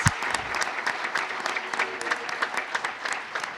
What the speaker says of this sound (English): ask for a round of applause for the Kleist team that made this possible